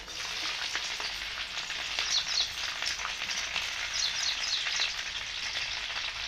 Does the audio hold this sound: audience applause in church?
no